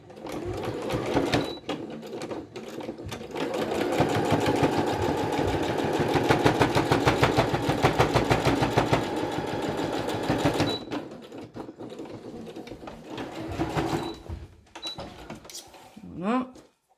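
A sewing machine runs steadily while stitching a washable fabric mask, a rapid mechanical chatter lasting about ten seconds before slowing and stopping, followed by short bursts and handling noise with someone talking nearby.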